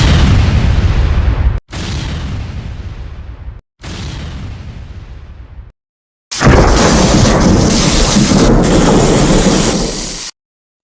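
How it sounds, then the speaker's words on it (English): Heavy booming blasts of an airliner exploding in mid-air, one after another with brief gaps, then a long roaring, crackling explosion that fills the air before cutting off. "an explosion ripped through the forward baggage compartment, tearing the aircraft apart in mid-air"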